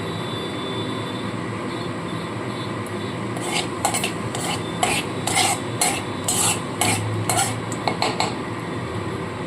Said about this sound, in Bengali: তেলটা গরম হয়ে গেছে তো আমি এখানে দিয়ে দেবো প্রথমে কালো জিরে অল্প কালো জিরে দিয়ে দিলাম